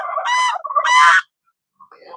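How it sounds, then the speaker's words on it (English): Geese and turkeys at a frozen pond give two loud, close honking calls in quick succession, then a fainter call after a short pause. "That would be geese and turkey yelling at me."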